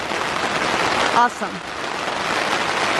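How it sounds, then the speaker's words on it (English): Steady rain hisses down across a campsite on Assateague Island, an even wash of drops on surfaces throughout, with a brief spoken word from a woman partway through. "I just worked really hard on that fire and now it's raining"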